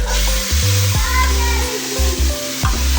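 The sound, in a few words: tempering spices sizzling in hot oil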